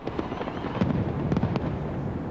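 A fireworks display over Sydney Harbour on New Year's Eve 1998 crackles and pops continuously, with dense rapid bursts over a steady rumbling roar heard from a distance through a crowd's background noise.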